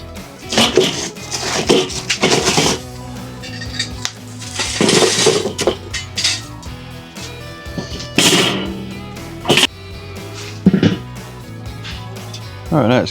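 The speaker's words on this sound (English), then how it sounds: "let's get these coals on and get them on" Charcoal coals tumbling into a Weber kettle grill, coming as loud, clattering bursts of hard lumps striking metal, several separate pours with brief pauses between them, close up.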